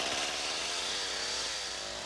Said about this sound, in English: The ice here seems a little too thick to be removed with a chisel, so he's decided to use a saw for the hardest part of the work.